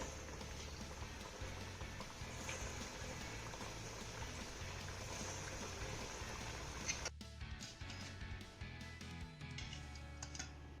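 Wet coconut balls deep-fry in hot oil with a steady, dense bubbling sizzle that drops off sharply partway through, then carries on with lighter crackles and scattered pops.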